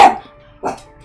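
A pet dog barks twice, close and loud, with a short pause between the two sharp barks.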